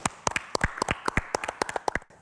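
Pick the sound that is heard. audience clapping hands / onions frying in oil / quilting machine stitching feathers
audience clapping hands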